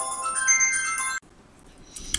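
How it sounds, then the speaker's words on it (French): A mobile phone ringtone plays a bright electronic melody of repeated tones for about a second, then stops abruptly. After a short quiet gap a faint chime sounds, with no talk over it. "j'ai mon portable qui a sonné"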